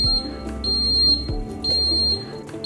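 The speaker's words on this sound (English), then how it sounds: "Press mute key, to mute the buzzer." A steady electronic alarm annunciator buzzer sounds in repeated bursts, loud and piercing, pausing briefly between tones, signalling a fault.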